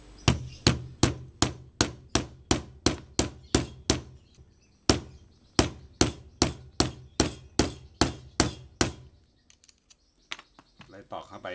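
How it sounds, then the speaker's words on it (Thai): A metal drift is hammered against a bearing part to seat it back into a pressure washer pump: a rapid run of sharp, loud, evenly spaced strikes, a brief pause, a second run of blows, then quiet taps. "ตอกเข้าไปที่ตำแหน่งเดิมนะฮะ"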